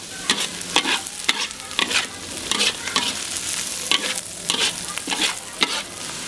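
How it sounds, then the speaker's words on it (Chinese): Homemade radish pickles being stir-fried in a pan, a spatula scraping and stirring in quick repeated strokes over a steady close sizzle, with no talk. "这个就炒一下下"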